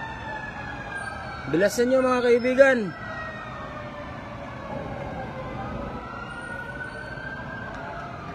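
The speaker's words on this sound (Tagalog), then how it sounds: "Ito na, nagsirating na yung mga rescue fire truck natin." Fire truck sirens wail as rescue engines arrive at a building fire in Quezon City, a loud rising-and-falling sweep for about a second and a half, with someone speaking over it and steady street noise.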